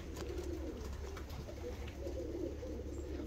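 Fancy show pigeons coo steadily in a loft, a low continuous murmur of several birds, faint and even throughout with no talk.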